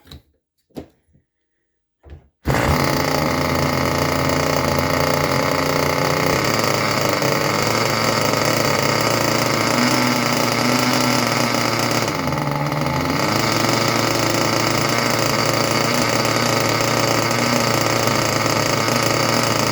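A few sharp clicks, then a small Junkyard Mutt nitro engine on a break-in stand starts and runs continuously at a loud, steady idle, close by with a slight dip in the middle.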